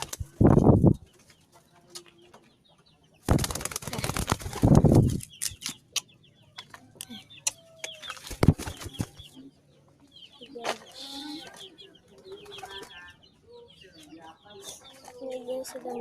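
Pigeons in a loft during training, with soft cooing and wing flutters among broadband whooshes and knocks of handling and a cage door, intermittent and close.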